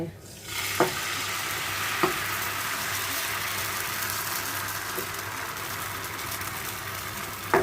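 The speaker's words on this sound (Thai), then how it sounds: "พอกระทะเริ่มร้อนก็เทลงไป" Thin crepe batter with sliced green onion hits a hot pan and sizzles in a loud, steady hiss that holds throughout, with a few faint clicks and no talking.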